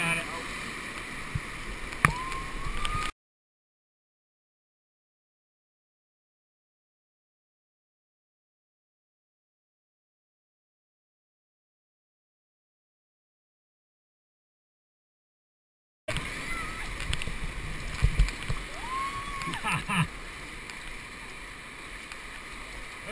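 Rafting through river waves and rapids, with rushing water, paddle splashes and shouting voices in two stretches separated by a long silent gap.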